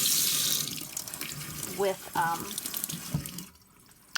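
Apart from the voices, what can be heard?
stream of water from a tap washing mealybugs off aloe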